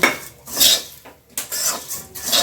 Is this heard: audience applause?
no